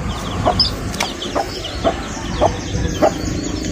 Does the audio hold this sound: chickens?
yes